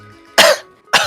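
Two sharp, loud coughs from one person, close to the microphone and separated by a short pause, with no speech.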